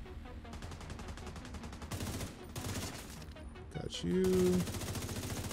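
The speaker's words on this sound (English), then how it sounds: "Keep shooting at that red thing, hoping that it'll explode, but it does not" Rapid bursts of video game gunfire rattle through a multiplayer match, with dense repeated shots and one louder burst near the end, while players talk over the action.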